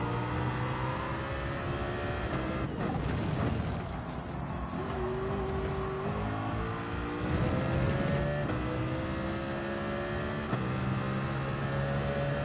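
Race car engine in Gran Turismo 7, droning steadily at high revs while tucked into another car's slipstream, pitch shifting slightly with gear changes, loud and continuous with no talk.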